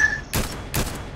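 Gunfire in the video game Fortnite: three short, loud broadband bursts of shots spaced about 0.4 seconds apart, with a faint tonal hum before the first burst.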